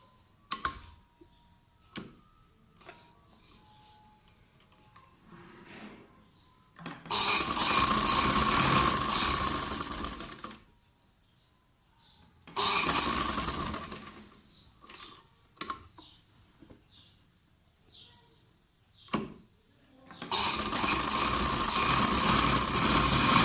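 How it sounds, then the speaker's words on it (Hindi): A sewing machine stitches a little girl's summer frock, running in three loud steady bursts of several seconds each, separated by quiet pauses with faint handling clicks. "मैं अच्छी सी जो है इसकी सिलाई कर लेती हूँ"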